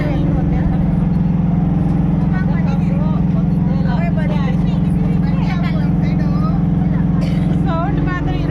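Steady low rumble and rattle inside a moving passenger train travelling to Bangarpet, loud and continuous throughout, with people chattering and talking over it.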